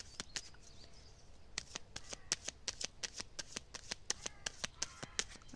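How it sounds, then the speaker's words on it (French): Tarot cards are shuffled close to the microphone, giving a quiet run of crisp, evenly spaced riffling snaps with no voices. "Je vais faire quelques cartes avec le béline. Allez. Déjà, je vais faire une coupe."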